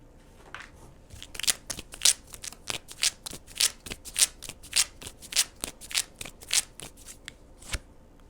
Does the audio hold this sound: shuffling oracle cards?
yes